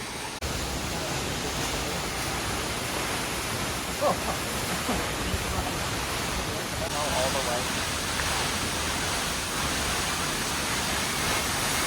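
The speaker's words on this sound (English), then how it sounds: "this is a Perrine Coulee waterfall." Perrine Coulee waterfall near Twin Falls, Idaho, a walk-behind falls, roaring as a dense, unbroken rush of falling water that fills the scene evenly from start to end, loud and close.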